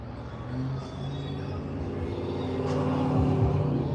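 A Cadillac Escalade on 24-inch rims drives by, its low engine hum and tire rumble swelling gradually as it nears over a few seconds.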